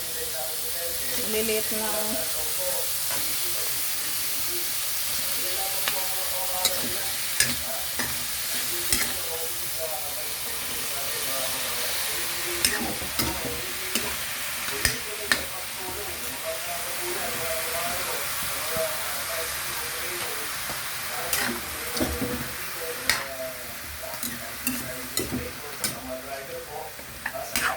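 Bottle gourd (upo) sautés in a pan with a continuous hissing sizzle as it is stirred, giving scattered clinks and scrapes, while people talk briefly nearby.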